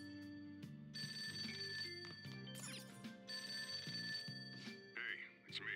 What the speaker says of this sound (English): The phone ringing up and down.